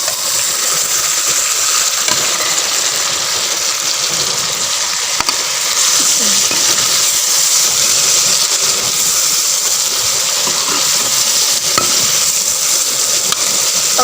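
Beef pieces fry in a pot for a home-style turnip and beef dish, a loud, steady sizzle that hisses on throughout with faint stirring clinks and scrapes and no talking.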